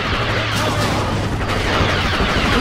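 Muffled booms from grenades in a Star Wars Battlefront firefight punch through continuous battle noise, with several sharp blasts layered over a steady low rumble of gunfire.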